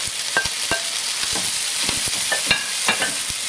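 Green onions stir-fry in a hot pan for Kung Pao chicken with pineapple, a steady close sizzle broken by repeated sharp scrapes and clacks of a utensil tossing the food, with no talking.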